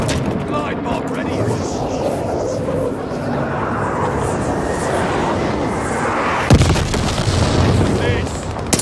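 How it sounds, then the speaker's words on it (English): A glide bomb explodes in the Call of Duty: Vanguard hardcore domination multiplayer match, a broad rumbling blast with a sharper boom near the end, under continuous battle noise and game voice callouts. "Glide bomb ready."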